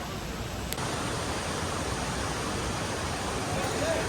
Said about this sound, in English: there's like a little waterfall over there